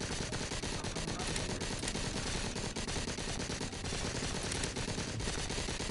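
Dense, continuous automatic gunfire from the VR zombie shooter Arizona Sunshine, loud and sustained with rapid overlapping shots throughout.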